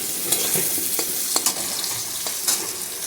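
Beetroot fries in a pan with salt and turmeric. A soft, steady sizzle sits under a few sharp clicks and scrapes of stirring, with no one talking.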